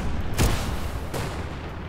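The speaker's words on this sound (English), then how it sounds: "He's shooting at me. Oh, that's a light tank." A light tank firing in the World War II game Hell Let Loose, two heavy cannon booms half a second apart over a constant dense rumble of battle, close and loud.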